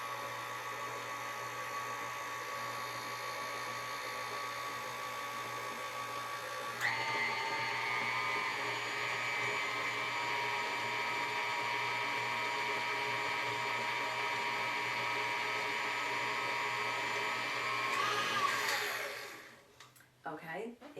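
An electric mixer beating cream cheese potato candy dough in a home kitchen, a steady whirring motor hum that steps up in pitch partway through and runs loud for about eleven seconds before cutting off.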